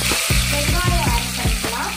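Cardamom, cloves and bay leaf sizzle in hot oil for chicken biryani, a loud close frying hiss with a tonal hum and repeated low thumps underneath.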